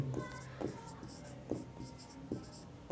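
Quick strokes of writing on a classroom board come in a rhythmic series of short scratchy taps and drags, close and clear, during a general knowledge lesson.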